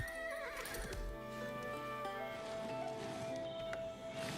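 A horse in the video game Age of Empires 4 on Xbox gives a clear whinnying neigh over the clatter of hooves, with other game sounds layered faintly beneath.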